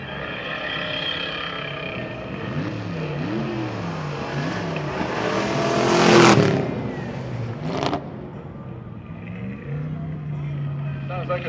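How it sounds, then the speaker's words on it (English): At a dragstrip reunion, a drag race car engine fitted with open headers fires up in the staging lanes, rising to a loud burst of revving under an announcer's continuous talk before settling back to a rumbling idle. "Sounds like a set of headers firing up back in the staging lanes."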